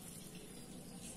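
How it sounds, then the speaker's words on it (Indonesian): Water mixed with Antracol fungicide is poured over begonia stem cuttings, a steady, soft, continuous splashing gush with no talking. "Sebelumnya kita siram dulu dengan air antrakol yang sudah Kakak campur ya"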